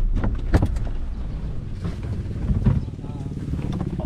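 A boat engine runs close by with a loud, steady, rough rumble, mixed with gusty wind noise.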